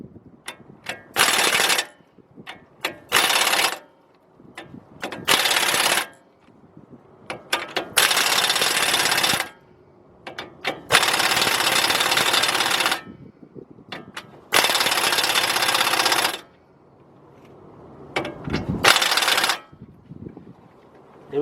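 On a 2003 Chevy Trailblazer, the front hub nut is tightened in a series of loud, close bursts of rapid ratcheting and impact-like rattling, broken by short pauses and tool handling clatter, with no speech.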